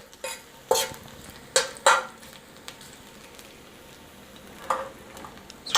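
Garlic fries gently in olive oil for a simple garlic pasta, a soft background sizzle broken by several sharp clinks and scrapes as a utensil stirs it around the pan.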